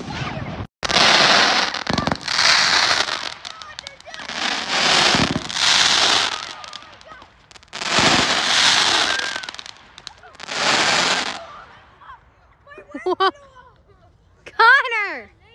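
Fireworks burst in repeated loud crackling volleys close by, separated by brief gaps, followed by a few shorter whistling rockets near the end, with people's voices scattered among the blasts.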